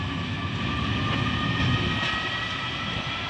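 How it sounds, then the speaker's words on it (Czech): A Czech diesel-hydraulic locomotive, nicknamed Hydra, drones steadily as it hauls an express train toward a stabling siding in Písek, a continuous loud engine rumble nearby with no speech. "Hydralenka jede na odstavení."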